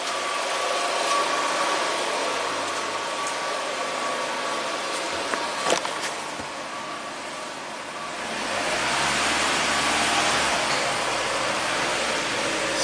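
A 2003 Kia Rio with a speed sensor fault is revved in gear with the wheels spinning. A steady mid-pitched engine hum and vibration hold, then swell louder as the revs rise near the end.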